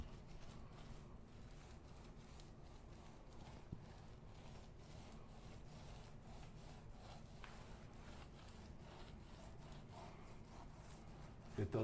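Drywall patch being sanded to knock down ridges and feather it into the surrounding painted wall: a steady, continuous scratchy rubbing that runs without pause at a fairly even level, fairly quiet throughout.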